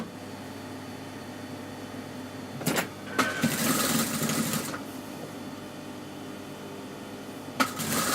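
A sewing machine stitches a seam in a few short bursts, a brief run and then a longer whirring one, over a low steady hum of room noise.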